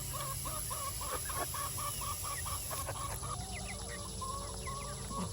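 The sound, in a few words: chickens clucking in a flock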